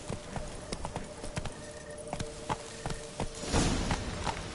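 Roach the horse's hooves clip-clopping in The Witcher 3: Blood and Wine, a steady walking rhythm of crisp, close hoof strikes, with a louder rustling surge near the end.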